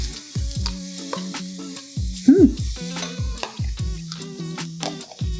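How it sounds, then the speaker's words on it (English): Finely diced onion hits a hot saucier and sizzles while being stirred, with repeated scraping stirs and clinks over a steady frying hiss, close by and without speech. "We're going to throw some finely diced onion in here."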